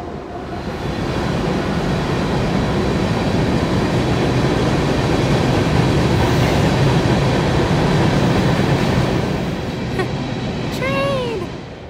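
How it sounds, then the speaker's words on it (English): Train passing by on rail, a loud, sustained rumble and clatter of wagons close by that fades slightly near the end, with brief high wheel squeals at the tail. "Ooh, a train!"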